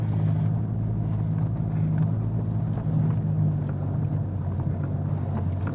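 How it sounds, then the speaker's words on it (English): A 4WD crawls down a steep, loose track in the Arkaroola wilderness of the Flinders Ranges in first low gear, its engine braking as a steady, low droning rumble with some wind buffeting on the microphone. "I'm just chucking it in first low and just letting the engine do the work, not even touching the brakes currently."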